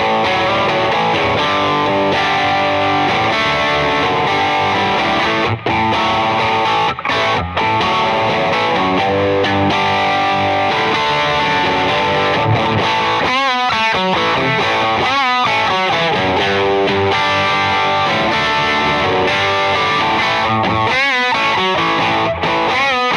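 Overdriven electric guitar with a warm, mildly distorted Tube Screamer-style tone plays steady chords and riffs throughout, with a few brief pauses and picked single-note runs later.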